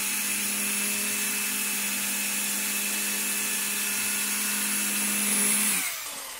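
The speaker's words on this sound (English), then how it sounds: "You then continue drilling until you have a big hole." A power drill whines at a constant high pitch for several seconds while drilling a hole in old computer parts, close and loud, then winds down as it stops.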